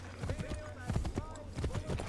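Horse hooves clip-clop in the video game Assassin's Creed III Remastered, a steady rhythmic trot of repeated muffled hoofbeats close up, with a player's voice talking over it.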